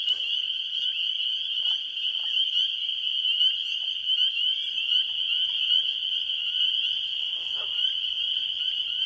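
Marsh ambience at sunset, dominated by a dense, continuous high chorus of frogs or insects trilling steadily, with faint scattered calls and a low background hum.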